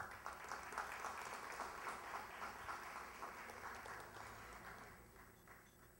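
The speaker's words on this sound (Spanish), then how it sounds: "El aplauso para ella." Applause from an audience at an evening awards ceremony honoring women in Miraflores, a steady patter of many hands that holds strong, then gradually thins and softens toward the end.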